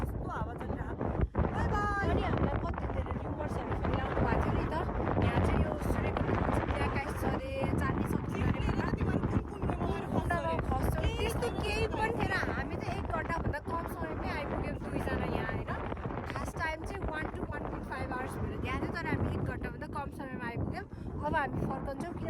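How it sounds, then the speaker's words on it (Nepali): Strong wind roars steadily into the microphone at Dudhkunda lake on the Gosaikunda trek in Nepal, a dense constant rumble that buffets throughout, with voices faintly mixed in beneath it. "यहाँ एकदमै चर्को हावा लागिरहेछ।"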